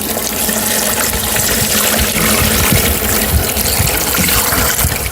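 Water gushes steadily into a worm bin tray to rinse it out, a loud, continuous splashing rush that holds close and even throughout.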